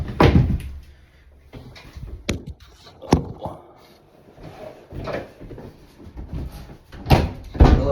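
Heavy old painted wooden door in a plaster house being worked loose and lifted off its hinges, a series of knocks, scrapes and wooden thumps of varying loudness close by, ending in a couple of sharper bumps.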